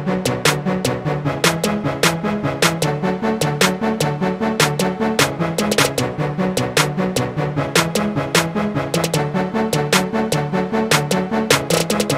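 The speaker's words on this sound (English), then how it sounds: "Then we're layering in a clap." A dry clap sample layered over a snare in a hip-hop beat: crisp, regular hand-clap-like hits stack on the backbeat within a loud, full mix of drums and music running throughout.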